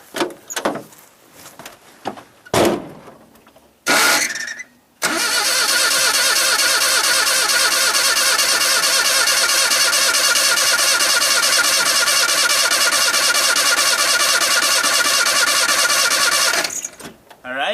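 After a few knocks and a sputter, a wood gas truck engine cranks and catches, then runs loudly and steadily at a fast idle before cutting off.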